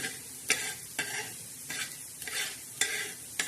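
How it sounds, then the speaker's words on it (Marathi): Coriander seeds dry-roast in a pan, stirred in a rhythm of sharp scraping, rattling sweeps about every half second over a soft sizzle, close and with no voices. "धने आपले भाजले आहे भाजत आहे"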